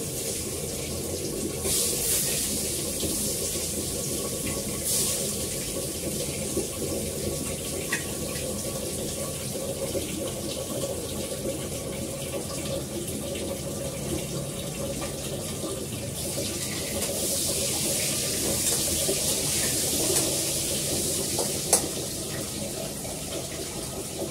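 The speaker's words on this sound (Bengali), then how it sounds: "চাল অনেকবার ধুতে হয়, তাহলে চাল খুব পরিষ্কার, তাও অনেকবার ধুই।" Rice is washed under running tap water, a continuous close splash and gush of water into a vessel that lasts throughout with slight surges and a faint clink near the end.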